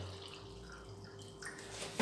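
Water trickles and drips into an AGM car battery as it is topped up, a faint, close pouring with a steady low hum underneath and a brief louder splash at the end.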